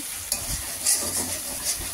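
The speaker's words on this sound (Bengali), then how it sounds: "তারপর দুটা আলাদা ভাজছি" Sesame-paste ingredients frying in a wok, a steady hiss with scraping stirs and a few brief louder clatters, close and alone over about two seconds.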